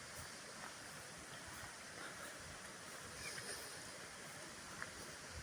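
A waterfall on a pine-lined hiking trail in Argyll, Scotland rushes as a faint, steady wash of noise heard from a distance, unbroken and with no talk.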